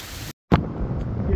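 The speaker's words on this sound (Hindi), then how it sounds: "बड़े ही ज़ोरदार गरज चमक के साथ बारिश हो रही है" Heavy rain and gusting wind of a thunderstorm roar over a field of sorghum fodder, a dense continuous wash of noise broken by a brief cut near the start before it resumes at full strength.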